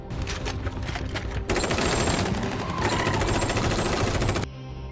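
A gunfire exchange in an action film, with rapid automatic bursts that rattle continuously and loudly, mixed with heavier sustained volleys, ending abruptly into a low hum.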